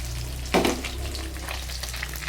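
Food sizzles and crackles in a hot pan, a steady frying hiss with a brief louder burst near the start.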